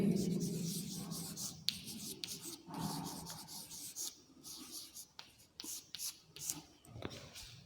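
Marker or chalk strokes scratch across a classroom board in short, uneven rubbing bursts, fairly faint, with a low murmur of voice beneath and no clear words.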